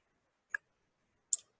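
Two crisp, isolated computer mouse clicks about a second apart, close and quiet against near silence, made while clicking on a stock market chart.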